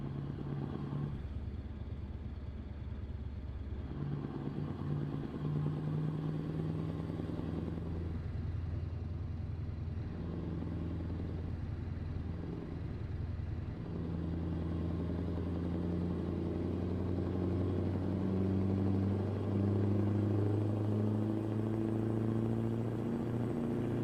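Steady low drone of a Scania V8 truck engine in Euro Truck Simulator 2, continuous and moderately loud, rising and falling slightly in pitch as it drives, with no talk over it.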